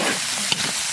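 Sheep head meat being stir-fried in a wok with salt, soy sauce, ginger powder and chilies, giving a steady close sizzle with a couple of brief scraping stirs.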